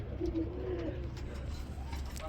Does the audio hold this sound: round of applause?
no